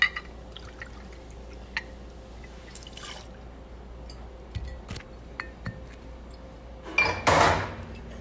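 Two ounces of single malt rye whiskey with a gold label pour into a glass, a short splashing burst near the end after scattered faint drips and clinks in a quiet room.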